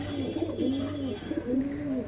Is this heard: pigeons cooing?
yes